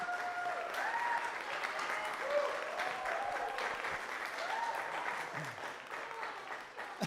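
An audience at a literary magazine launch party claps warmly and continuously for several seconds, a dense, even wash of applause in an indoor room with a few voices rising faintly beneath it.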